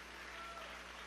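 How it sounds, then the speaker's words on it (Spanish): A theatre audience at a concert in Teatro Teresa Carreño bursts into dense, continuous applause, close and steady throughout a brief moment with no pauses. "Un aplauso para ese compañero."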